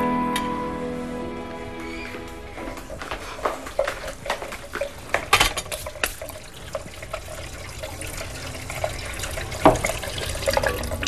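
Water runs from a tap in an irregular splashing stream, with clinks and knocks over the flow, fairly close and moderately loud, no talking.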